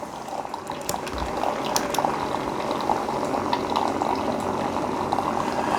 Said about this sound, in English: So we got our hot coffee coming out